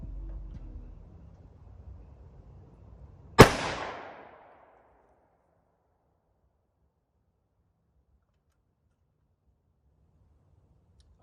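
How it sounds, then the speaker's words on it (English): A single loud, sharp gunshot from a test-fired rivetless AK rifle, cracking out once and ringing briefly before dropping into near silence, with faint low background noise beforehand. "Rivetless AK, test fire 1."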